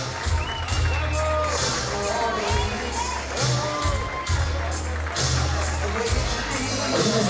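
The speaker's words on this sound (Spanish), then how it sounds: "Vamos a dar esos dos aplausos, que se escuche bonito." A crowd at a quinceañera cheers, whoops and shouts for the celebrant's siblings, a lively mass of voices with bursts of applause and a loud thumping bass beat underneath.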